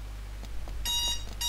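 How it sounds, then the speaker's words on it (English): An alarm goes off in Rayman Revolution, a faint pulsing electronic ringing that starts softly and swells into brighter repeated beeps. "Ah, crap, stupid alarm."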